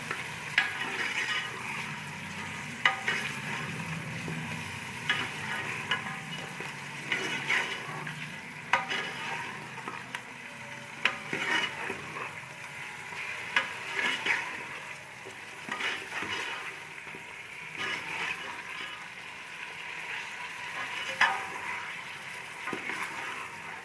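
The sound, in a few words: meat frying in a pan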